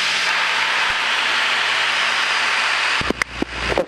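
A light aircraft's engine drones steadily on final approach to Barra Airport's runway 25, loud and close, with brief cockpit clicks and bumps near the end.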